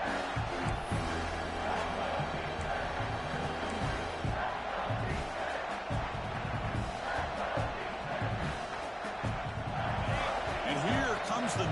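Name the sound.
stadium crowd noise in College Football 26 video game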